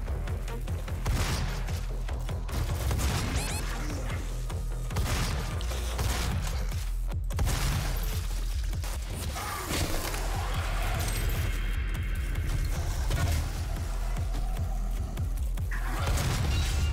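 Rapid bursts of gunfire in the video game Doom (2016) on Nightmare difficulty crackle and boom continuously, loud and dense, with a voice briefly talking over the shooting.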